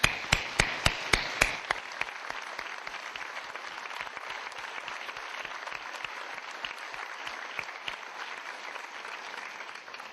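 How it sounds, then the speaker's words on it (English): An audience applauds committee members at a college chancellor's opening session, starting with a few loud, close, sharp claps before settling into a steady, moderate patter of crowd clapping that continues throughout. "Let's give them a round of applause."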